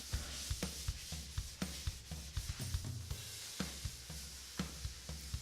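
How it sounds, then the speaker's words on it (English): A cloth rubs over a pine desk top with white spirit, slow rhythmic strokes in repeated soft scrubbing bursts, close and steady with no talking. "a final clean down with some more white spirit just to get rid of any grease and dust"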